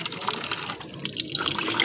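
Water is poured into a homemade pigeon drinker, a close, steady splashing and trickling that runs without a break for a couple of seconds.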